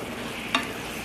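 Carrots and corn fry in a pan, making a steady close sizzle, with one brief scrape of stirring partway through.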